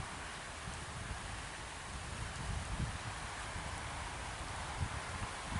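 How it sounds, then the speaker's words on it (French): Rain falls outdoors in a field in a steady, soft, even hiss with faint low pattering, fairly quiet and continuous throughout. "il pleut bien"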